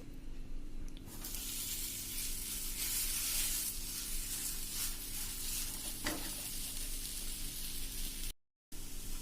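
A pearl millet paratha roasts on a hot pan with a steady, close sizzle and hiss, a few soft stirring or pressing scrapes, and a brief dropout near the end, with no speech.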